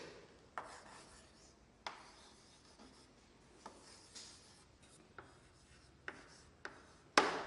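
Chalk or marker scratching across a classroom board as a student writes a sentence, with faint rubbing strokes and a few sharp taps, quiet and close in an otherwise still room, with no talking.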